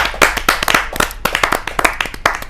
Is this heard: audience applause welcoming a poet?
yes